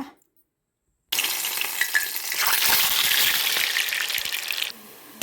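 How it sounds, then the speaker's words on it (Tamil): Vada fritters frying in hot oil set up a loud, steady sizzle that starts abruptly after a moment of silence and carries on unbroken. "வடை பொறிஞ்சு கொண்டு இருக்குது"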